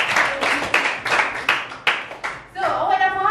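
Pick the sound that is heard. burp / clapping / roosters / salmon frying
clapping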